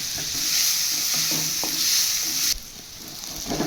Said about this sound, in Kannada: ಈರುಳ್ಳಿನ ಇದು ಸ್ವಲ್ಪ ಚೆನ್ನಾಗಿ ಫ್ರೈ ಆಗಬೇಕು